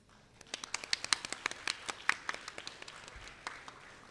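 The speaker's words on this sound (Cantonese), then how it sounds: "最後，我哋再次以熱烈嘅掌聲恭賀所有獲獎嘅同學。" Applause congratulating award-winning students at the closing of an applied learning course award ceremony: a thin, scattered patter of claps from a modest crowd, rising briefly and then tapering off.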